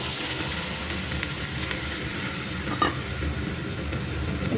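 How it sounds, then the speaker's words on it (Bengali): Cauliflower and potatoes frying in a wok, a steady loud sizzle with scraping stirs throughout, close by and with no talk. "আলুটা লাল লাল করে ভেজে নিচ্ছি, কপিটাও ভেজে নিচ্ছি"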